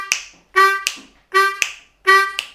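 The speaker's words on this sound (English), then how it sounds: "So we're playing just a clean 2-draw on the offbeat" Clean 2-draw notes on a blues harmonica land on the offbeat between sharp tap clicks, four short bright reedy tones repeating in a steady rhythm, close and alone.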